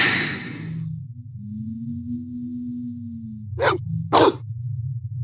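In the Blade Runner video game, a dog lets out two short, sharp barks close by, following a low sustained hum from the game's ambience.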